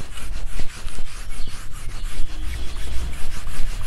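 A board eraser rubs out writing on a board during a maths lesson, giving a steady, close scraping rub that runs continuously for several seconds with repeated strokes and no talk.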